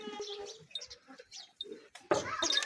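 A goat with a wound bleats in a quavering, wavering cry near the start. People talk in the background, and a louder, harsher burst of sound comes near the end.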